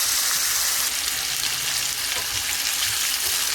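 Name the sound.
T-bone steak frying in butter and garlic sauce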